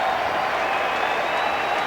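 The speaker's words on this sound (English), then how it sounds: "They're going crazy here at Yankee Stadium." Mets fans applauding and cheering at Yankee Stadium after the final out of a baseball game, a steady dense roar of clapping and crowd noise with no clear talk.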